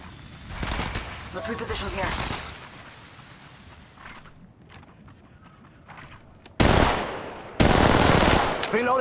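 Gunfire in the Apex Legends Mobile battle royale game: two loud, dense bursts near the start, a quieter stretch, then two very loud sustained volleys toward the end.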